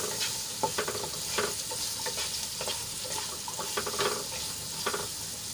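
Two onions sizzle steadily in a hot pan for a corn and paneer curry, with soft scraping and stirring strokes, heard up close with no talk.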